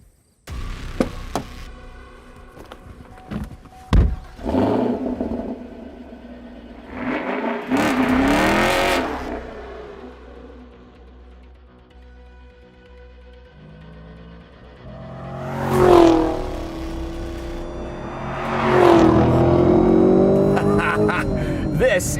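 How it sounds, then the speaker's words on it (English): A Chevrolet Camaro SS 1LE track car with a manual transmission and rear-wheel drive, its engine revving up through gears in several rising pulls with gaps between, loud and close from the cabin. "This is a Camaro SS 1LE. This is a track car."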